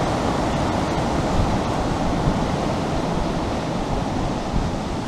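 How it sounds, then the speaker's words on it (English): Strong wind roars steadily outdoors as a storm shakes nearby trees, a dense, unbroken rushing noise that stays loud and even throughout with no voices. "Listen to that wind."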